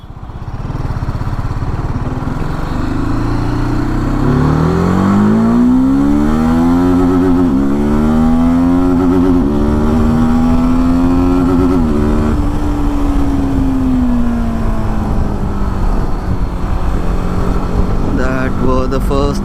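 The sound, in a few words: TVS Apache RTR 310 motorcycle accelerating to redline through gears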